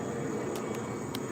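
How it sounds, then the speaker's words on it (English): An airplane flying overhead near an airport gives a steady, broad engine roar, even in level, heard alone for a brief moment. "I'm waiting for the plane to go by."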